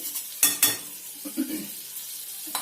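Butter melts in a heated pot for butter chicken, sizzling steadily at close range, broken by a few sharp scraping stirs.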